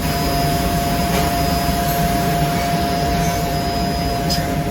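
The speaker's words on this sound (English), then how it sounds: "This machine runs every day, almost all day, every single day. This is our tube laser." A tube laser cutting machine running in a workshop produces a continuous loud whirring hum with a steady tonal whine and broadband hiss, unchanging across the whole stretch with no talking.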